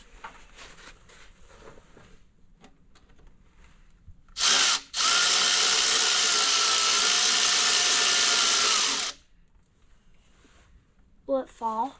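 A power ratchet or driver works on the last bolt of the throttle body on a 1990 Ford F150 5.0 V8, giving a single loud, steady whir lasting about four seconds, with quiet talking before and after.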